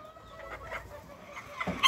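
Miniature chickens cluck softly at a ranch breeding pen, with a wheat-colored pullet among them. The short clucks repeat at a moderate distance, with a slightly louder call near the end and no talking.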